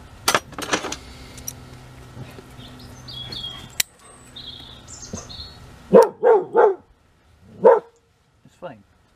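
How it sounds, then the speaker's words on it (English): A neighbour's dog barks several times in a close burst, then once or twice more with gaps, while birds chirp faintly outdoors and a person talks nearby. "it's fine, just the neighbour's dog quieting down"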